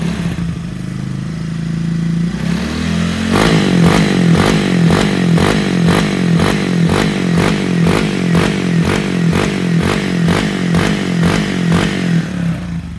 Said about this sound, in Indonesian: Mas Rang mau coba blayer sedikit biar kalian tahu knalpotnya bacotnya kayak gimana setelah naik ke injeksi